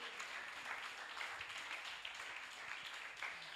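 Continuous applause from a secondary-school workshop audience as a speaker is welcomed up, many hands clapping in a dense, sustained wash with slight swells and no break.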